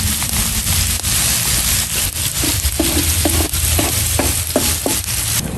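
Onion masala frying in a pan for a cactus-and-crab dish, a steady loud sizzle broken by repeated scraping stirs of the spoon through the mixture, no voices.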